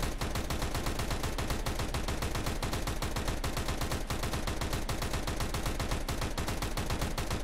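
Rapid, evenly spaced gunfire in CS:GO as the weapon is fired by scrolling the mouse wheel, a relentless machine-gun-like stream of loud shots at a steady fast rhythm throughout, with no talking.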